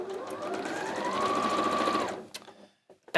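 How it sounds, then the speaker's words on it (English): A sewing machine runs in one steady, close whirring burst while stitching quilt strip sets with a quarter-inch seam, slowing and stopping after about two seconds, followed by a few light handling clicks. "And then I sew those together as well in a 1/4 inch seam."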